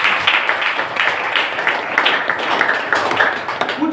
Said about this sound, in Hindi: तालियां हो सकते हैं